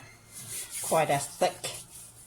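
Thick butter-like balm rubbed in by hand, with a few soft close strokes of rubbing and smearing in a quiet room.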